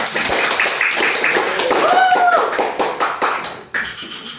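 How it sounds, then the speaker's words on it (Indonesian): Classroom students clap hands together in quick, close bursts, with a short cheer or voice rising midway before the clapping thins out and stops. "Iya, mari kita tepuk tangan."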